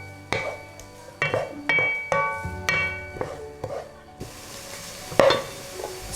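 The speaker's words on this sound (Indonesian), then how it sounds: "Terus kita masukin jamurnya dan kita tumis sebentar." Chicken and mushrooms are sautéed in a pan, with a spatula scraping and clinking against the metal in regular strokes over a soft background sizzle, close up and without speech.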